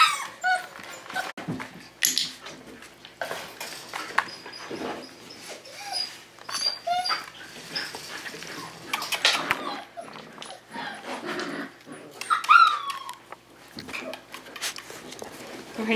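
Tamaskan puppies whimper and yip in scattered, high-pitched bursts while playing a box game, close by and fairly loud, with soft rustling and a person talking gently among them.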